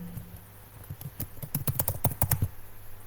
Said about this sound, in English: So when you click on that, you can actually type women's clothing.